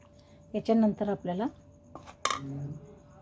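A spoon stirring yogurt into vegetable biryani in a metal pot, with a few bright clinks and scrapes against the pot, near and fairly quiet, between spoken remarks.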